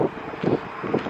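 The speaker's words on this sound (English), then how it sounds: "it's a bit windy around here" Wind gusting across a microphone in an open field at a football match, low rumbling buffets that swell and fade in a few pulses, no voices.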